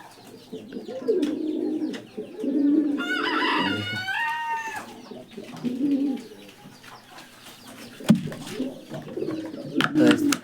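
Farm pigeons coo amid the clucking and crowing of free-range native chickens, a busy mix of bird calls near and far with a brief harmonic call standing out midway and a sharp knock near the end.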